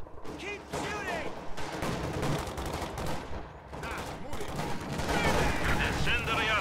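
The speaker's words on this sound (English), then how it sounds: "Keep shooting." Gunfire crackles through a battle in the video game Company of Heroes 2 on the Soviet side: dense, overlapping bursts and volleys of rifle and machine-gun fire, with a voice in between.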